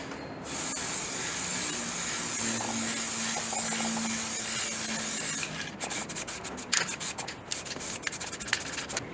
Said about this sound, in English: So now I've got some high temperature black paint, so it doesn't need a primer.